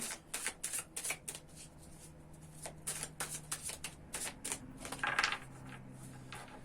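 Tarot cards are shuffled and cut, giving quick papery riffles and soft slaps in short bursts, close and fairly quiet, with a slightly louder flurry near the end.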